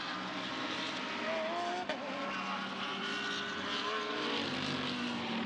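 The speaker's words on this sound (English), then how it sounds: "This the KCMG by Champion Racing, Martin Rump driven Audi" Audi GT3 race car at the Fuji circuit during qualifying, engine drone and a shifting pitch heard under a constant mix of track noise and race commentary.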